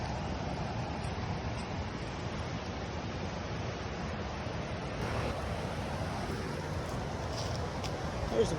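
Flowing water in the hills, a river running at a picnic and fishing spot, heard as a steady broad rushing wash with some wind on the microphone, continuous and fairly close.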